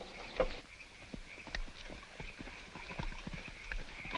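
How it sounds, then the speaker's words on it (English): Hooves of two horses carrying riders clip-clop in a steady, uneven walking rhythm, moderately close, with faint background ambience and no talk. "Dos hombres a caballo."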